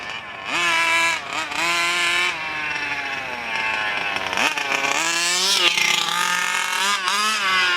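A giant 2-stroke gas RC truck engine held at half throttle, a loud, raspy, buzzing drone with a rich harmonic whine that wavers slightly in pitch, running continuously up close.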